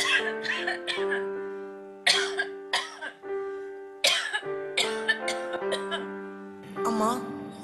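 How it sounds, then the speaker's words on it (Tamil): A woman coughs in repeated harsh bursts during a college cultural team's Tamil stage drama, the fits spaced over sustained background music. "ஏன் இருமுறீங்க?"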